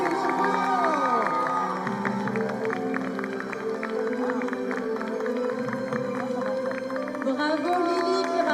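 A festival audience at a cosplay contest (hashtag festival 2024) cheers and claps for the first-prize winner, a steady, dense roar of crowd noise with clapping mixed in that holds at an even level throughout.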